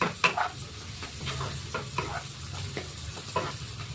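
Onions fry in a pan and are browning, a continuous low sizzle with repeated light scraping strokes of stirring, close and fairly quiet, with no voices.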